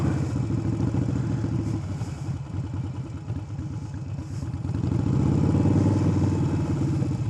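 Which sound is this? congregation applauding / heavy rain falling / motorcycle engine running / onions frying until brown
motorcycle engine running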